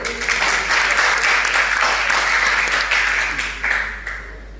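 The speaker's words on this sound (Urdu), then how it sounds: "سامعین کرام، آپ سب کی بھرپور تالیوں میں" Loud, steady applause from a university competition audience, many hands clapping at once without a break.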